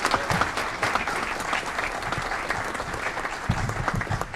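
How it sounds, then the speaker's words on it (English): An audience at a city council meeting applauds an award recipient, with dense, continuous clapping and occasional low thumps throughout. "Another round of applause for Eric Price."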